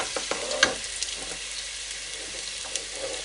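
Pork caramelizing with honey sizzles loudly in a pan as it is stirred, with a bright continuous hiss broken by a few scraping clicks from the stirring.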